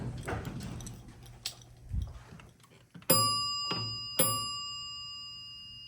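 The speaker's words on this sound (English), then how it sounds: "Let's see if the bell works outside here." Three bright bell chimes from a Dover hydraulic elevator's arrival bell ring out one after another, each with a long shimmering decay, following some quieter shuffling and handling noises.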